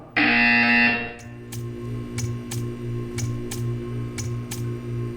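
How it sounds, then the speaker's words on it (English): A loud harsh buzzer blares for about a second in the video game Portal 2, then stops, leaving a low hum with a regular series of faint ticks. "You will hear a buzzer."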